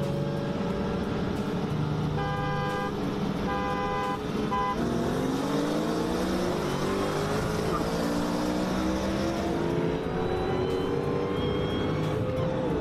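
Manual car racing hard in fifth gear against a Pro Charged M3, a loud engine with a rising whine climbing steadily in pitch after a brief shift, sustained and close throughout.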